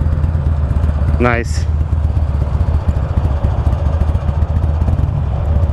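A 2009 Buell Lightning Long XB12SS motorcycle rumbles in a loud, constant engine drone during a test ride, with a brief chirp and one short spoken word over it.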